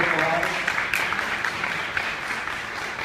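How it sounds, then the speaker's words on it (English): An audience applauds committee members at a public gathering, a steady wash of clapping that is moderately loud and fairly distant, with a voice speaking faintly underneath. "Give them a round of applause."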